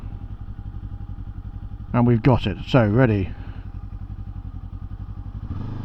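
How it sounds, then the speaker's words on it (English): The engine of a 2024 Kawasaki Ninja 7 Hybrid motorcycle runs at a steady, close, low rumble while someone talks briefly over it, and the engine tone shifts near the end. "the engine starts instantly."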